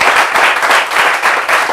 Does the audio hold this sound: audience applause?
yes